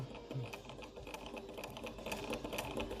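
Vintage Australian SAF Pinnock sewing machine stitching fabric, a quiet steady rapid mechanical clatter running continuously close up.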